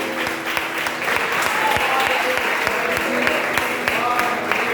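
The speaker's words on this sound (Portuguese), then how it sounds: "Você pode aplaudir." A church congregation gives sustained, dense applause that stays at a steady level throughout, with a few voices faintly mixed in under the clapping.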